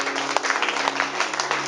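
A church congregation applauds together in a dense, steady wash of clapping that fills the whole brief moment, with no break and no speech over it.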